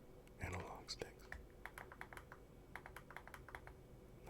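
Crisp button clicks on an ROG Ally handheld gaming PC, several quick taps in a loose rhythm, close and quiet, with soft whispered speech early on.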